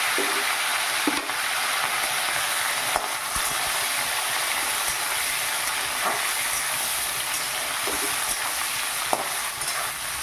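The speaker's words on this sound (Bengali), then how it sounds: "এটা একটু হালকা হালকা ভেজে নেব।" Boiled young jackfruit and potato pieces fry lightly in hot oil, giving a steady, even sizzle that fills the whole stretch, with a few soft clicks of stirring at scattered moments.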